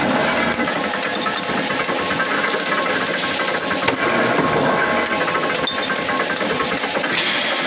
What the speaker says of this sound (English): you can hear the power of this machine and how it should be bended